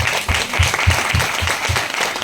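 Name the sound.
audience applause at a celebration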